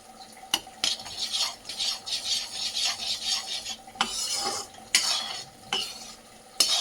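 A spoon stirs and scrapes through melting jaggery in a pan for sesame laddoos, giving close, irregular scraping strokes with a soft sizzle and a few sharp clicks against the metal, and no talking.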